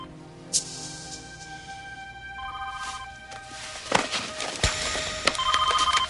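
A telephone rings with bright, electronic tones in short bursts at moderate volume, accompanied by a few knocks and handling noises, with no talking.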